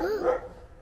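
A dog gives a single short bark, close and fairly loud, then the sound fades out.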